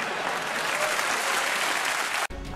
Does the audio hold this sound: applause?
yes